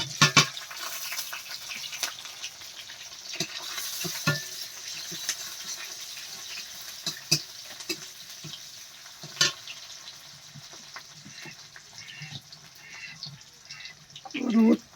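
Panch phoron, green chilli and onion frying in a wok, a steady soft sizzle broken by scattered clicks and scrapes of stirring, with a louder burst of spitting near the end.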